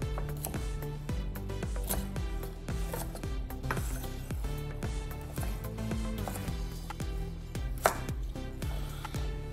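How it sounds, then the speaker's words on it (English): A knife chopping carrots into large pieces on a cutting board, a fast, even series of sharp, close knocks that runs the whole way through with no talk. "I'm just going to take my carrots and I'm gonna cut them really big"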